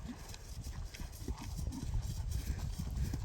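A dark horse with a white blaze, ridden for the first time, is walked along, its hooves clip-clopping in a steady, fairly close rhythm over a low background murmur.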